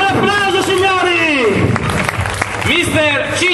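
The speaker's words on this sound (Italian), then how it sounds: "Un bel applauso, signori!" Loud audience applause at a finale evening of a touring music competition, the clapping thick and continuous beneath a voice talking and singing over it.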